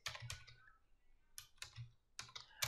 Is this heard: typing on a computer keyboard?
yes